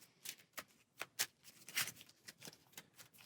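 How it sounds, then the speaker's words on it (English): A deck of game cards is shuffled close up on a tabletop, giving about a dozen crisp riffling snaps and flutters in an uneven rhythm against a quiet background. "So one last shuffle."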